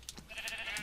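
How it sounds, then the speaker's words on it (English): Sheep bleating in a farm video game, a few short bleats close together over a steady background hum, with no talk. "So we have yet again more sheep"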